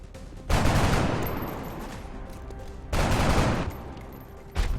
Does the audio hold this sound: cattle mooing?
no